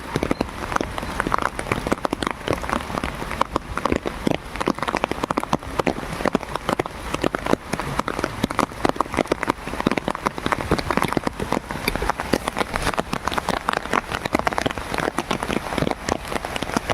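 Heavy rain pours down steadily at night in a rural Philippine setting, a loud, dense, continuous hiss with countless close drops pattering on surfaces throughout, and no voices.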